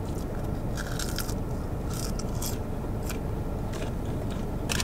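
Crunchy bites into a fried Popeyes chicken sandwich, several sharp crackling crunches spread over a dense, noisy close-up background, with no talking.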